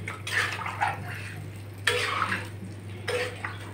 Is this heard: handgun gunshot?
no